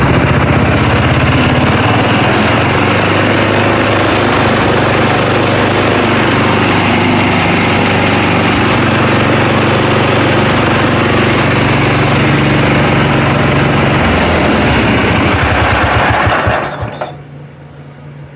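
A 1982 John Deere 108 riding mower being turned into a mud mower, its small engine running loud and steady at close range with a constant buzzing drone, then cutting out near the end.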